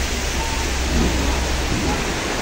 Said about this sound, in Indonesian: hujan banget di luar sana hujan